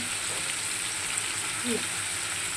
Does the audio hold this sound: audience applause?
no